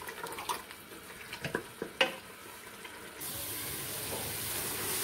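Meat frying with yogurt in a pan while cooking haleem: scattered soft clinks and stirring knocks at first, then a steady, faint sizzle that continues to the end.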